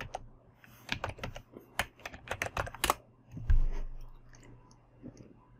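Fingers type the product name Sensedge Mini on a computer keyboard: a quick run of crisp, close key clicks over about three seconds, then a single heavier thump and a quiet low hum.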